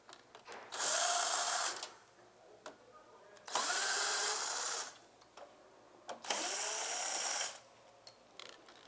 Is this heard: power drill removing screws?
yes